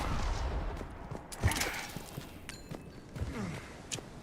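Gunfire from the lesser gun in Mass Effect 3 Legendary Edition, a handful of sharp reports spread across the clip with the loudest burst near the middle, set against busy game effects.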